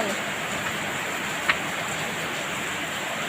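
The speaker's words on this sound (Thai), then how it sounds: "ฝนตก" Steady rain falling during a power cut on a hot day in Thailand, a continuous even hiss of moderate level with no pauses, and a single brief tap partway through.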